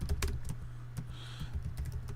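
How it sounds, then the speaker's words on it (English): Someone types on a computer keyboard at close range, giving a quick run of crisp clicking keystrokes with a low steady hum beneath. "I'm just going to type it right in there"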